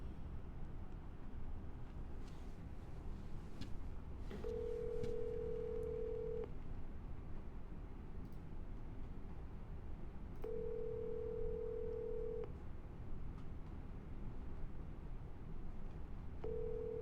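A cell phone call rings out in repeated tones, each lasting about two seconds and separated by roughly four-second gaps, over steady background hiss and hum.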